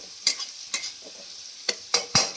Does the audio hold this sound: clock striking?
no